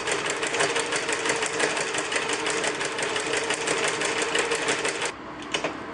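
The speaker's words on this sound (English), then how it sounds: "So watch what happens when I press the foot pedal." A sewing machine fitted with a ruffle gathering foot runs fast and steady for about five seconds, its close rapid needle chatter continuous before stopping abruptly into quieter hum.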